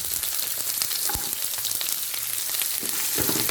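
Shallots and spices fry in a hot pan for a homestyle Kerala duck roast, giving a loud, dense, continuous crackling sizzle with a few brief stirring knocks, and no talking.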